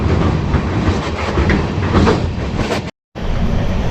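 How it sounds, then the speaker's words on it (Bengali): The 15675 Guwahati Intercity Express runs at night in rain, a loud steady roar of wheels with clickety-clack rhythm, cutting out briefly near the end before resuming. "ট্রেন চলছে ট্রেনের গতিতে, বৃষ্টি হচ্ছে বৃষ্টির গতিতে"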